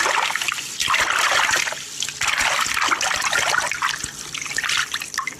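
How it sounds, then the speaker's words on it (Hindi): A mop is plunged into a bucket of water during household floor cleaning, giving a steady run of close sloshing, trickling and splashing with no pauses. "ये रहा पोछा। इसको पानी में अच्छे से डुबा लेती हूँ।"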